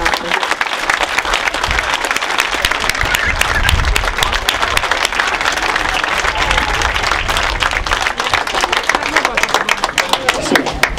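A crowd applauds with sustained, dense clapping, loud and close, continuing steadily throughout, at a sports field inauguration in Vergato, Italy.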